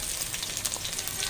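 Chopped onions fry in hot mustard oil in a kadhai, a dense, continuous sizzle close up with no talking.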